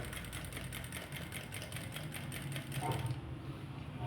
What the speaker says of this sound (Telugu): ఇలా మనం స్టిచ్చింగ్ చేసేసుకోవటం ఓకేనా